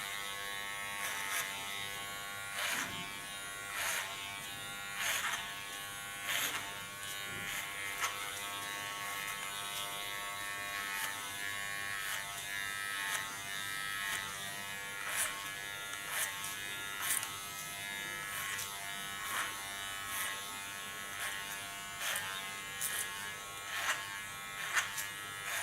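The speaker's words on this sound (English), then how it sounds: "Get over to my clipper again." Electric hair clipper buzzing steadily while cutting hair in a side-shaved, asymmetric undercut, with repeated short bursts and strokes as it passes over the head, close and continuous throughout.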